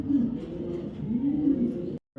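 A large Afshan grizzle racing pigeon, a top breeder bird, gives low rolling coos up close for about two seconds before the sound cuts off abruptly.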